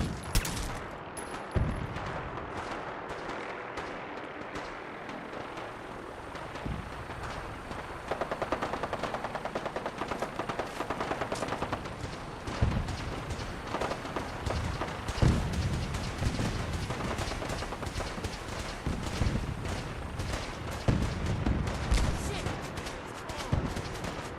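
Heavy gunfire from the Fallout 4 video game rattles almost without pause, rapid automatic bursts and sharp shots piling up loud and close, with voices talking in places.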